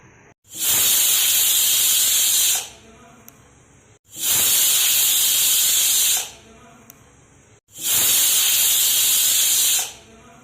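Pressure cooker cooking green pigeon peas, releasing three loud, close bursts of hissing steam about two seconds each, separated by quieter pauses, with no voices.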